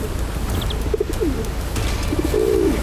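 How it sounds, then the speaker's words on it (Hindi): A bird coos a few short, soft notes at mid distance, with a longer drawn-out call near the end, over steady background noise. "ये तो कबूतर जैसे किसी पक्षी की आवाज लग रही थी"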